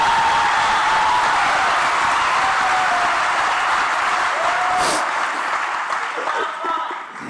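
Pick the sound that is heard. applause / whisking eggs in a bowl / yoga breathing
applause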